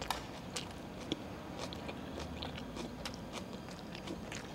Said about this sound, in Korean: 저도 쌈으로 싸서 먹어야겠다.